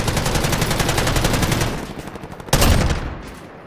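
Rapid automatic gunfire in a Call of Duty multiplayer match, a dense steady stream of shots for nearly two seconds, then a lull and a second loud burst after a brief gap.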